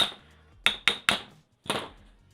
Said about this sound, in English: And then you just hammer it through.